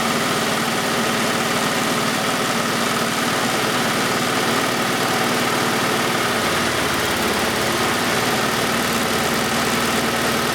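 Car engine idling roughly with a misfire caused by a shorted fuel injector, a loud, constant, close rumble with uneven pulsing and a shift in tone partway through.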